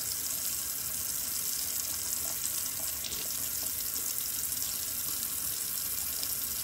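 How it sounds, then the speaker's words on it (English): A bathroom tap runs steadily to wet an alum stick during a wet shave, a continuous bright hiss of flowing water that stays even and close throughout, with no one speaking. "just wet the alum stick a little bit"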